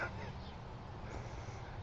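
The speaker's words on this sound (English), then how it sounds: "Damned American geese." Canada geese honking outdoors, a steady low chorus of calls that sits under faint background noise with no clear talk.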